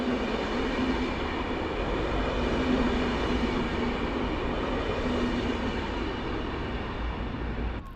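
Express Intercity second-class carriages roll past at Warszawa Wschodnia station, a steady, loud broadband rumble of wheels and cars passing close for the whole stretch, with a faint steady tone running underneath.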